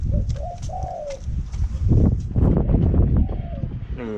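A domestic dove cooing: several soft, low, rounded coos in the opening second, then rustling and handling noise, a voice talking over it, and a few more faint coos near the end.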